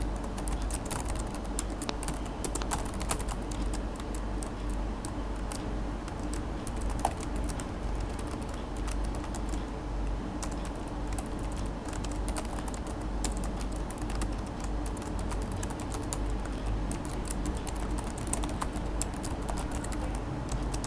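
Typing on a computer keyboard while entering a web login form, a steady patter of soft key clicks throughout over a constant background hum, with no talking.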